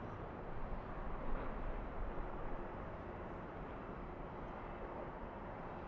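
A Delta jet, flight 428, taking off at LAX, its engines making a steady, broad roar that holds at an even level throughout with no voices.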